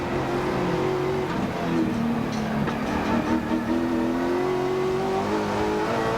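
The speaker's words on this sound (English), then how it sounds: "I really find that a very exciting sound when you hear these cars" Touring race cars at the 1994 Sandown 500, engines roaring and revving steadily at close range with shifting pitch as they accelerate, a continuous loud mechanical drone.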